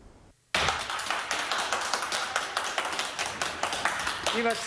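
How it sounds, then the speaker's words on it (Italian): Sustained applause from a group welcoming the first Covid vaccine doses arriving at a care home in the Venice area, bursting in after a brief quiet and continuing as dense, steady clapping to the end. "Accolti con l'applauso che accompagna i trionfi, sono i primi vaccini anti-Covid"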